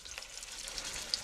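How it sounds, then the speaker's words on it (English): Marinated meat sears in a hot pan, giving off a soft, faint sizzle for a brief moment with a small pop near the end. "I'm going to get that sear on it."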